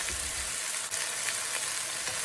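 Chicken thighs pan-fry in a wok for Portuguese baked chicken, giving a steady, close sizzle and crackle of hot oil with a brief scrape partway through.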